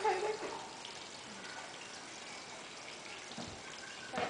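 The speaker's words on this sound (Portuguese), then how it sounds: "Agora vamos ter que pegar mais água aqui." Water pours and splashes in a kitchen while a juice drink is being made, a steady, moderately faint running flow with a brief louder splash near the start and end.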